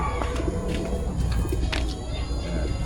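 Soft cooing from pigeons being treated for canker, mixed with scattered bird chirps over a steady low rumble of background noise, continuous and moderately close.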